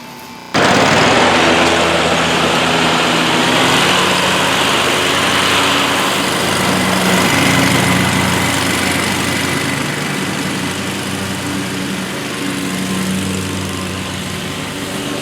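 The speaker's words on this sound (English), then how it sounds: "I will just mow and stop talking" A lawn mower cuts through tall, thick grass, its engine droning loudly and steadily throughout, close by, with slight swells in load and no talking.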